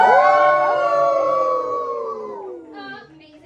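Several cast members imitate wolf howls together, voices rising and sliding in long overlapping wails that fade out over a few seconds.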